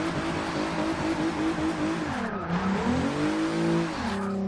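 A turbocharged VR6 engine in a Mk3 Volkswagen Golf drones and revs, its pitch sweeping down and back up as it is driven hard in reverse while drifting.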